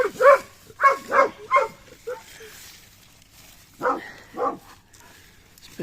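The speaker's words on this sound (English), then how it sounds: "Dogs are going mad." Several dogs bark outdoors during a garden session with Schefflera and Fatsia plants: a quick run of four loud barks, a pause, then two more, fairly close with faint background between.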